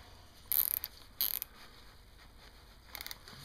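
A plastic zip tie pulled tight over a knot on a homemade duck blind, giving two short close ratcheting bursts, then a fainter third one after a pause, in an otherwise quiet room.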